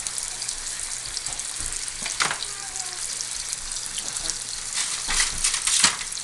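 Schnitzel cutlets for zigeunerschnitzel frying in oil, a constant close hiss of sizzling with bursts of crackle and occasional clatter of tongs, growing louder toward the end, with no voices.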